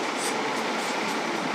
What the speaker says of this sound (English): This is one of the busiest roads in Odessa, hence the crazy traffic and trams rolling by and so forth.